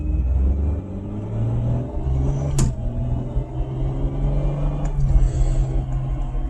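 A school bus pulls away from an intersection with a deep, steady engine rumble that holds and swells slightly, heard from inside the vehicle with a couple of brief clunks and no talking.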